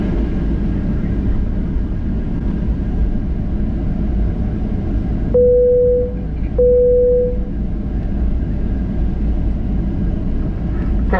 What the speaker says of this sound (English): Cabin crew be seated for takeoff.